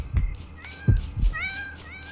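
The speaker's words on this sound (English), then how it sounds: "I'm feeding the kitties" Cats meow in the video game Yomawari: Night Alone, a few short, rising-and-falling cries close up after soft footstep-like thumps, with no voices.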